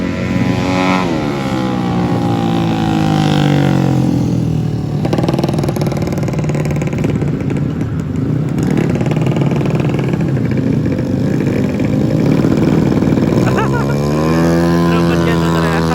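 Drag race motorcycles at a championship event in Aceh rev hard in continuous, loud, overlapping engine roars with rising and falling pitch, while a person talks over them throughout.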